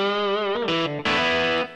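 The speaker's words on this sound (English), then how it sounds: "Same guitar now, but now I'm sending it through the US combo, which is the modeling of a Fender twin reverb." Electric guitar played through a Yamaha Tyros 5 arranger keyboard on its US Combo setting, a Fender Twin Reverb amp model, rings out loud sustained chords that change a couple of times, with a bright, slightly driven chorus-like tone.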